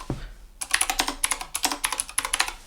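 Someone types on an iQunix S87 mechanical keyboard fitted with Cherry MX Blue switches, producing a rapid, uneven stream of loud, sharp clicky keystrokes up close, with no talking.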